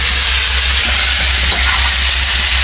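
Chopped tomato hitting a hot pan and sizzling, a loud, steady hiss with occasional stirring scrapes, close up and with no voices.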